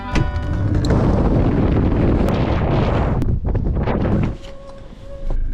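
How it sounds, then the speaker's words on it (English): Strong wind on the Isle of Skye, Scotland, roars and buffets the microphone outdoors, gusting loudly for several seconds before briefly easing, then picking up again. "I'll just go outside and show you how windy it is."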